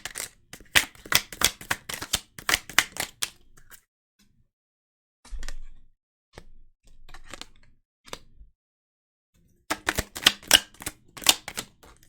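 Tarot cards shuffled for a reading, making fast crisp riffling bursts up close. A quiet stretch with a few soft taps and rustles separates two bursts of shuffling.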